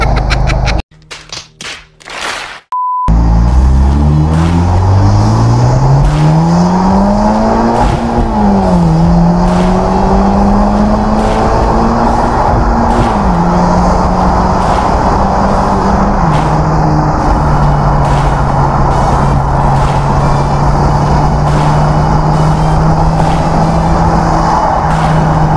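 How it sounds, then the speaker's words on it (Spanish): A Hyundai Genesis 2.0T sports car accelerates hard from inside the cabin, its engine note climbing steadily through several gear shifts over a constant loud road roar, after a brief burst of other noise at the start. "El carro la verdad sube súper fácil a 100"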